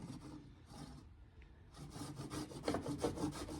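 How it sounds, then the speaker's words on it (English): Rasp-like grater file scraping a rough rotted edge on a car's cowl, a series of steady rubbing strokes, fairly loud and close, growing denser and stronger toward the end, with no talk. "That cheese grater might come in handy right there."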